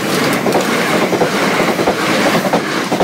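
A Class 377 passenger train bound for Brighton passes the level crossing at Goring-by-Sea station in West Sussex, a loud, close, continuous rumble with rhythmic wheel clatter running the whole time, no voices.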